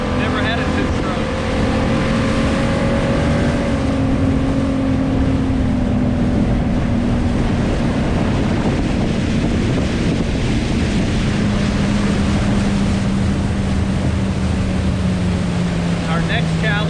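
A 32-year-old two-stroke bass boat runs fast across the water. Its engine gives a loud, sustained whine whose pitch slowly falls, with wind buffeting and water rushing throughout.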